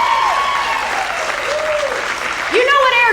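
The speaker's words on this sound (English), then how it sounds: "Applaud if you got boys" Comedy club audience applauding and cheering at a stand-up show, a loud burst of clapping with whoops and voices rising over it near the end.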